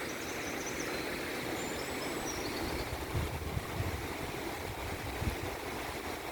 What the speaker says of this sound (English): Listen to the river.